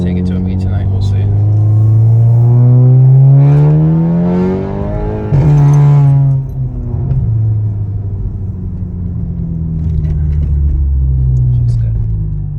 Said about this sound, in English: the exhaust, like I said, it's loud. In car it's loud, but it's the type of drone that I didn't really want